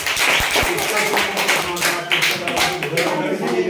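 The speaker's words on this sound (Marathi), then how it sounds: "हरवूसाठी जोरदार टाळ्या वाजवा" An audience of schoolchildren at a Zilla Parishad primary school quiz contest claps loudly and steadily in a dense, continuous burst, with some voices mixed in.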